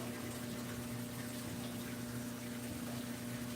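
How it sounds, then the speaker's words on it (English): Water running steadily through a drain to flush a clog, a faint continuous rushing with a low pump-like hum underneath, no talk. "We had a little bit of a clog here before, and I had to run the water to flush it through."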